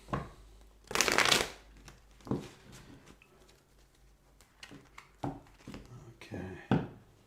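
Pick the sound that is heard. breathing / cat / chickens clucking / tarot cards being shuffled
tarot cards being shuffled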